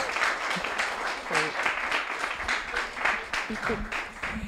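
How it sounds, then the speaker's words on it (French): Conference audience applauding in a moderate, steady patter of clapping, somewhat distant and soft, with voices and a little laughter mixed in over it. "je pense qu'on peut applaudir"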